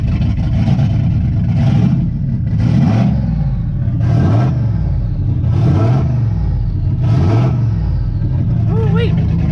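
A Chevy Impala engine with a freshly rebuilt carburetor revs hard five or six times in a steady rhythm, loud and close, each rise and fall over a rough idle, while people talk over it.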